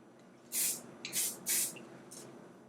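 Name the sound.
hairspray being sprayed on hair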